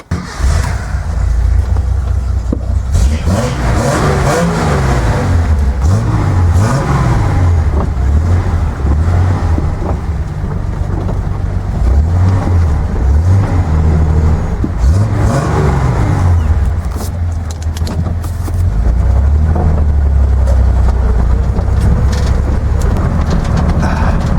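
A Datsun 240Z with new headers and exhaust drives along, its engine droning and rising and falling through repeated revs and gear changes, loud and near with steady road noise underneath.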